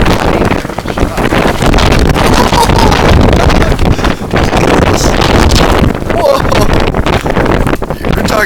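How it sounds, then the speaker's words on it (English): A strong gust roars across the microphone during a Chicago blizzard in February 2011, a loud, sustained, buffeting rush of wind that fills the whole stretch. "that had to have been like a 40-mile-an-hour gust"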